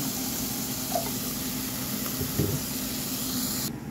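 Water pours steadily into a small pot with a continuous hissing splash, close up, with a couple of faint clinks partway through.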